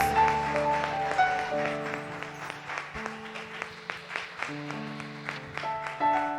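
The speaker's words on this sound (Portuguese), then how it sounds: "aplauda o Senhor" A church congregation applauds during a Sunday service, steady clapping over sustained organ-like keyboard chords, with a few louder clap bursts rising above the music.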